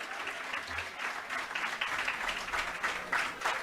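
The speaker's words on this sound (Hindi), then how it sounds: "भरत सर के लिए जोरदार तालियां" Audience applause for Bharat Sir at an Utkarsh Classes gathering, a steady dense clapping from a crowd sustained for several seconds without break.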